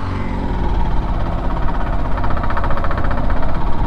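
A Honda Shine SP 160 motorcycle engine runs loud and close in third gear, a dense continuous mechanical drone with a fine rapid pulsing that builds slightly toward the end.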